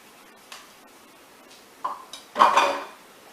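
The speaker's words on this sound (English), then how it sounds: "And you add your milk and stir with your whisk." A metal whisk clinks against a pan as milk is whisked into a butter and flour roux, a few sharp, close taps followed by a louder scraping clatter, with no talking.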